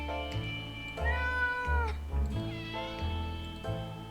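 A cat in the survival game 60 Seconds meows several times in close succession, loud and near, with drawn-out rising and falling cries and no talk over them.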